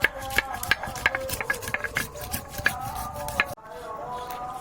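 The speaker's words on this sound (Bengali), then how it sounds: "বন্ধুরা এবার পেঁয়াজটা বেটে নেব, দারচিনি এলাচ আর লবঙ্গ দিয়ে," Whole onion with cinnamon, cardamom and cloves pounded into paste on a Bengali grinding stone, giving a steady run of sharp, close knocks and gritty scrapes that cut off abruptly near the end into a quieter steady hum.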